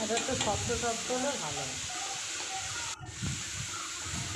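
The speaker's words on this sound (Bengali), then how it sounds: "দিয়ে নাড়াচাড়া করে ডালটার সাথে পাট শাকটা মিশিয়ে নেবো" Jute leaves sautéed and stirred into a pot of cooked lentils, giving a steady close sizzle with scraping stir strokes, the hiss continuous throughout and a brief dip near the end.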